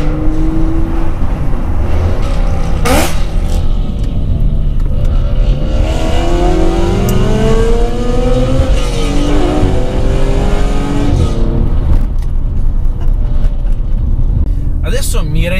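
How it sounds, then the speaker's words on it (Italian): BMW M3 engine revving with sharp throttle blips on downshifts, loud and continuous with rising and falling pitch sweeps throughout, a voice talking over it at times. "sentire quel sound dando quel colpetto di gas in scalata"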